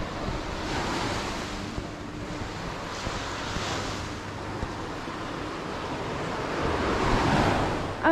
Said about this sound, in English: right here is the ocean